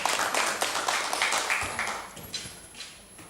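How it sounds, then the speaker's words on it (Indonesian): An indoor school audience claps in a dense burst of applause that thins out and fades over a few seconds, with no talking over it. "Tepuk tangan untuk kita semuanya."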